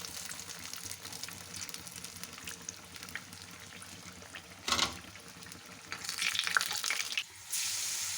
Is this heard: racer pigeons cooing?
no